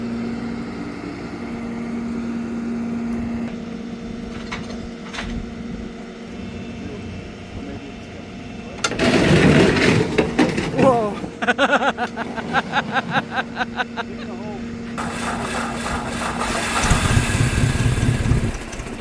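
A Ford 801 tractor engine cranks and catches around the middle, then settles into a rough, rhythmic idle with bursts of throttle, heard close amid background noise.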